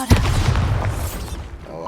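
Bombarda spell explosion in the video game Hogwarts Legacy, a sudden deep boom with a rumbling blast tail that thins out over about a second and a half.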